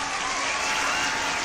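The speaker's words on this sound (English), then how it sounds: "Please give a round of applause for Tyson and Jack's cousin, Elijah." A short burst of steady applause from an audience, dense clapping lasting just over a second with no talk over it.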